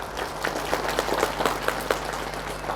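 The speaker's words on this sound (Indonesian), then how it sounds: "dan tepuk tangan untuk Nurul Islam" A crowd applauding at an Islamic religious lecture for Nurul Islam, a dense, steady clapping with individual sharp claps standing out, moderately loud and without speech over it.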